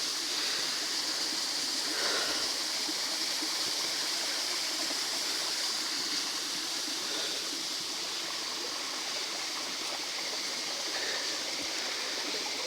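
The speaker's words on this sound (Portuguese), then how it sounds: "A água continua descendo" Waterfall stream at Cachoeira da Serrinha in Carmo do Cajuru, with water running down a rock crevice: a steady, broadband rushing flow, close and continuous, with no other sounds.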